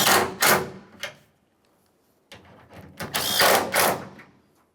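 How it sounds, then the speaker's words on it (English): Power tool bursts tightening tailgate hardware on a 1999-2006 Chevrolet Silverado 1500, two short whirring runs near the start, a pause, then a longer close, loud burst of driving before it stops. "we can continue on tightening that hardware"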